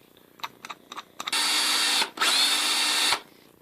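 Power drill opening holes in a 3D-printed plastic light fob: a few short test bursts, then two sustained close, loud whirring runs of about a second and a half each, with a brief pause between.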